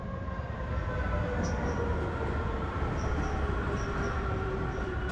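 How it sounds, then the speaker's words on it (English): Metro train in Medellín running through its steady, loud rumble with a faint high squeal of wheels on rail, a continuous rolling noise with no talk. "this is what the metro looks like."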